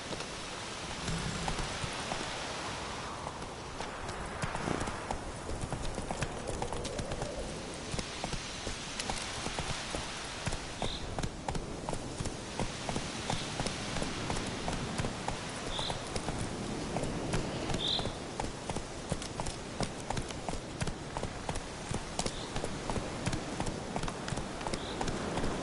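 Roach, the horse in The Witcher 3 on PS4, trots in regular clip-clop hoofbeats over a long stretch, moderately close. Soft rain-like patter and a few brief game sounds sit behind the hooves.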